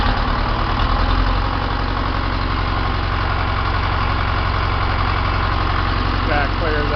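John Deere 2030 tractor diesel engine with a misfire running steadily and loud up close, a constant low rumbling drone that holds throughout, with no clear pause.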